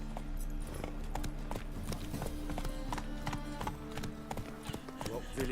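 Hoofbeats of the horse Roach in a video game, a steady clip-clop of trotting hooves at close range over a continuous low ambient drone, with speech-like voices over it.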